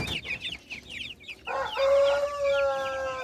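Brahma and Silkie chicks and chickens in a backyard flock cluck and cheep repeatedly, close by, building into a steady overlapping chorus with a sustained call standing out.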